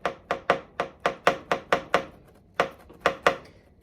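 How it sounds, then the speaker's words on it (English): A knife cuts the edge off a birthday cake in about a dozen quick, crisp chopping taps against the board beneath, evenly spaced with a short pause before the last few. "I'm just going to cut the edge off there"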